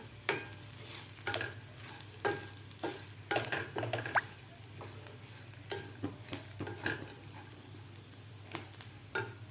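Fried peanuts being stirred with Kashmiri red chilli powder in a pan, a steady low sizzle beneath repeated scraping strokes of a spoon, fairly close and moderately loud, no voices.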